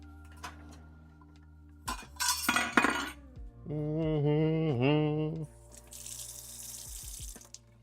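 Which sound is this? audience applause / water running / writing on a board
water running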